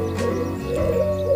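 A zebra dove (perkutut) kept at a roadside bird shop coos in soft, low hooting notes that carry through about a second and a half, steady and moderately close, with no talk over it.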